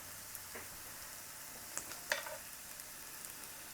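Chopped vegetables for a chicken pot pie stirred in a skillet, a soft low sizzle with a few light utensil scrapes and clicks, fairly quiet and without any talk.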